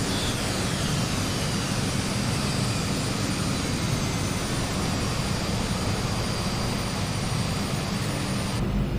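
Loud, steady drone of a DHC-6 Twin Otter's twin turboprop engines in Microsoft Flight Simulator, heard from inside the cabin, a dense unbroken roar with a faint high whine running throughout.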